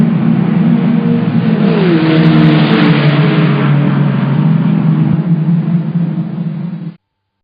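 A motorcycle passes the listener with its loud engine drone, and the pitch audibly slides downward as it goes by in a Doppler shift. The roar is steady and close throughout before cutting off abruptly at the end.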